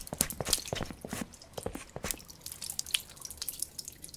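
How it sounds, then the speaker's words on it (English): Water drips and plinks in a tiled pool setting within the horror game POOLS, irregular close drops, some quick clusters and others spaced apart, ringing faintly against a quiet background. "It's something about the water sound,"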